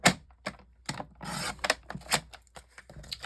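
A paper trimmer slices crafting paper in a series of short, close, crisp rasping strokes, separated by near-silent pauses and ending with a quick scrape.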